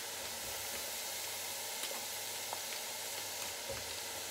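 Chayote fries deep frying in hot oil for a second cooking, giving a steady close sizzle and hiss with faint scattered pops and crackles throughout, no talking.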